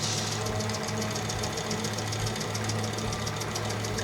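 A sewing machine stitches Ankara fabric for a hair bow, running as a steady mechanical hum and rapid rhythmic needle clatter close by.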